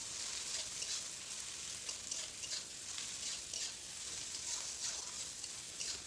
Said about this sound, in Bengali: কাটা টমেটো দিয়ে দিলাম। টমেটোটা খুব ভালো করে ভেজে নিতে হবে।